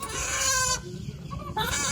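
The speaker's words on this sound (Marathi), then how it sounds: "खूप सारे कोंबडे तुम्हाला दाखवतो बघ" Village chickens and roosters clucking close by, a loud burst of harsh calls, a short pause with softer clucks, then another loud call starting up again.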